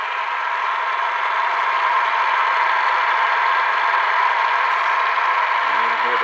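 A Bedini motor runs steadily on batteries, giving a constant close mechanical hum with a faint whine from the spinning rotor and bearings; the tone holds level throughout with no talking.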